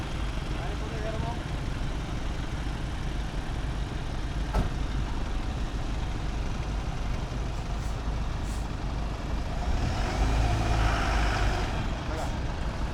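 Second-hand truck driving a trial round, a steady loud engine rumble throughout that swells near the end, with a short air-brake hiss midway and people talking faintly underneath.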